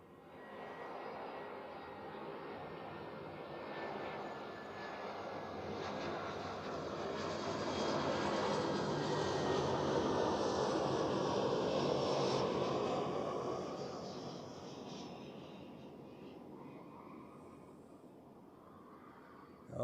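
An airplane landing on runway 14 at Zurich Airport: a broad engine roar that swells to a peak midway, then slowly fades as the aircraft passes, heard from a distance with no voices.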